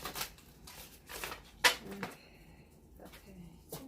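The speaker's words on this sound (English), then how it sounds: "I have to shuffle these backwards because the cards are bending too much" Tarot cards are shuffled close up in soft, brief riffling bursts separated by pauses, with one sharper snap partway through, the handling quiet and intermittent.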